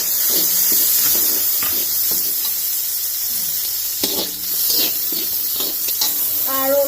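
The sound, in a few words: raisins and cashews sizzling as poured into pan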